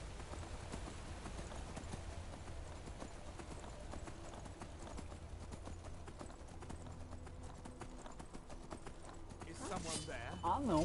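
Horse hooves clip-clop in an even trotting rhythm in the video game Skyrim, fairly quiet under in-game music and ambience, with people talking over it.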